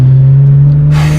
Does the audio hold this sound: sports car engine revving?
yes